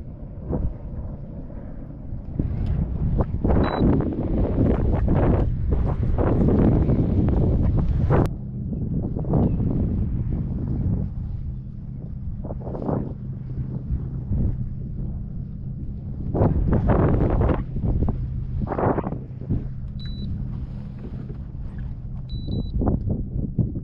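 Wind buffets a kayak on open water in the Everglades while a trolling motor runs low into it, a constant rushing roar with gusty swells, loud and close, with no talking.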